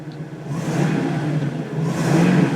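An engine running with a vehicle that has a check engine light and a newly fitted oxygen sensor. It is a steady, close idle hum with a slight rise in revs toward the end, and nobody speaks over it.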